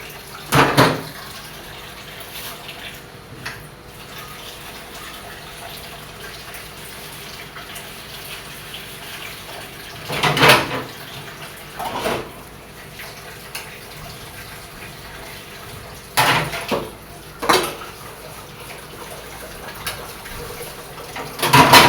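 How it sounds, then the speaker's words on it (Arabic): Tap water runs steadily into a kitchen sink as dishes are washed, with a constant close flow broken by several louder clinks and splashes of handled dishes and utensils. "اغسل بقى المواعين واغسل البوتاجاز واروق المطبخ واخليه فل"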